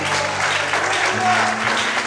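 A church congregation applauds during an evening worship service, a steady dense wash of clapping throughout, with a sustained musical tone underneath.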